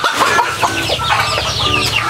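A group of pet ducks, kept under a tarp in rainy weather, calling with overlapping nasal quacks and clucking sounds, close and busy, with no talking.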